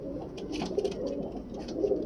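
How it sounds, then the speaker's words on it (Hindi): A large male pigeon coos softly nearby in a short, low, throaty murmur that repeats across the moment. "बड़ा कबूतर है।"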